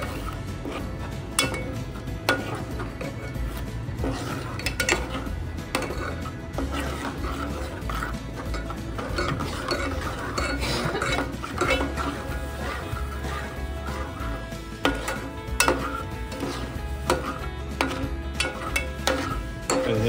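Spices being mixed with a spoon for a mackerel curry, a continuous busy scraping and clinking close up over a steady low background hum and bubbling, with no talking.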